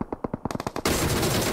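A UMP submachine gun fires in a shooter video game, first as a quick series of separate close shots and then as one sustained, dense burst of automatic fire.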